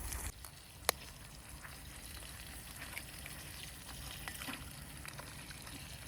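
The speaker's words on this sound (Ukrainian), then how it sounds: "як воно зараз смажиться у нас наш бекончик" Bacon sizzles and crackles steadily in hot oil outdoors at a campsite, a close, continuous frying hiss with small pops and one sharp knock near the start.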